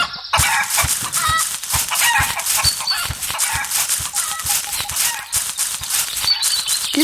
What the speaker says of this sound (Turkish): Tavuk gidiyor